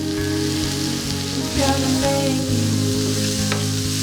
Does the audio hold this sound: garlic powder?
yes